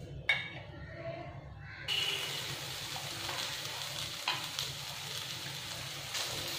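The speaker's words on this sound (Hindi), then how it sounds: "ये मैंने खोए को इसमें डाल लिया है तो इसको कंटिन्यू हम चलाते रहेंगे अच्छे से भूनेंगे" Khoya roasting in a little ghee in a pan while being stirred for chocolate barfi, a steady low sizzle with occasional scraping and clinks from the spoon, near and continuous after a quiet start.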